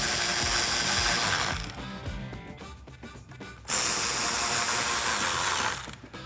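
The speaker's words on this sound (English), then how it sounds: "I'll reinstall my 7mm screws." A ratchet driving 7mm screws back into the headlight trim fascia on a 2015-2020 Ford F150 bumper: two close bursts of rapid clicking ratchet-and-gear noise separated by a short pause.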